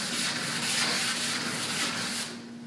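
Fiberglass is wet block sanded with 600 grit paper in a steady, soft, close rasping rub with faint rhythmic strokes, easing off at the end.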